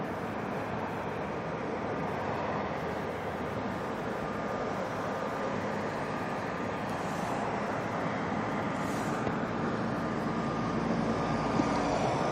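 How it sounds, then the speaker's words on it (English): A DHL Boeing 767 arriving at Auckland Airport from Christchurch, a broad steady jet roar from a distance that swells slightly toward the end, outdoors with no talk. "The first one being the DHL 767 coming in from Christchurch."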